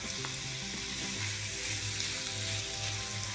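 Shrimp searing in a hot pan, intended for Cajun seafood lasagna rolls, give a steady, close crackling sizzle with faint stirring scrapes and no voices.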